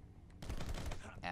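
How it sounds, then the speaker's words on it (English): AK-47 automatic fire in the video game Rocketbirds: Hardboiled Chicken, a burst of rapid rattling shots starting partway in and running to the end, loud over a low background. "Oh, he's got AK-47s."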